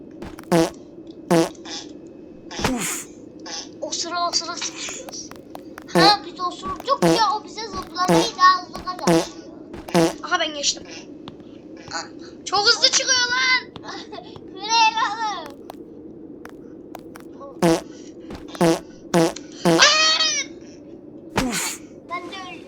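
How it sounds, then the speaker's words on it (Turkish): Repeated fart sound effects from a baby-themed video game punctuate excited chatter and laughter from young players, the short bursts recurring loud and close throughout. "Lan osurdu."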